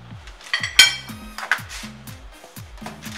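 A spoon clinks against a pot of beans as salt goes in for a sweet bean dessert, with several sharp metallic taps at uneven intervals over a soft background hum.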